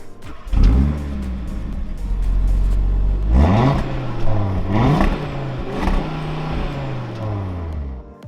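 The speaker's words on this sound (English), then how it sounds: "this one has an upgraded exhaust system" A 2023 Audi RS3 five-cylinder engine with an upgraded exhaust revving repeatedly, the exhaust roaring up and dropping back several times, loud and close, with no voices.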